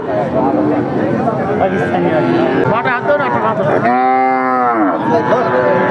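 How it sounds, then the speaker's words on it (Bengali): A Sahiwal dairy cow at a cattle market lets out a loud, close moo with a clear tonal bellow in the middle, set against the steady chatter of a busy crowd. "সাইয়ল জাতের দুধের গাবি"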